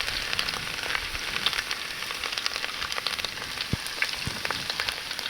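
Finely chopped ginger and garlic sizzle and fry steadily in a pan for a chicken kappa biriyani, with a constant close crackle and occasional louder pops and spits, no voices.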